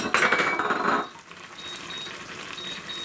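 Lifting the lid on a pot of simmering cabbage soup with carrots releases a loud burst of sizzling and bubbling with a faint clink, then settles into a quieter steady simmer.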